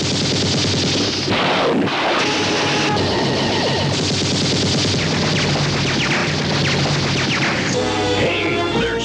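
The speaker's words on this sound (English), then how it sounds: "they're shooting real bullets" Sustained, loud gunfire from a staged stunt show at Universal Studios, with rapid machine-gun-like bursts and blasts running continuously for several seconds in a noisy, echoing outdoor crowd setting.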